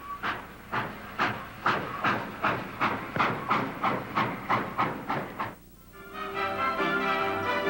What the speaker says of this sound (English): A great collection of trains at York in England.